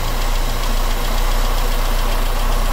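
A 1.1-litre petrol car engine with a carburettor runs steadily at idle, a loud, even, continuous rumble with a slight knocking texture and no voices.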